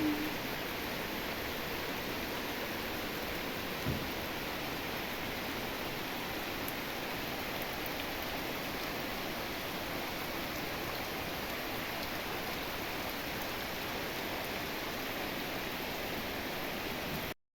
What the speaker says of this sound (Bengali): আর বলতে না বলতেই বৃষ্টি শুরু হয়ে গেছে।